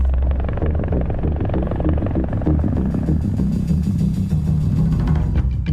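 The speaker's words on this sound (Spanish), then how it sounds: "Pero también lo vemos con el rotor de un helicóptero, por ejemplo." Helicopter rotor thudding in a steady rapid beat with a deep engine rumble, loud and close throughout.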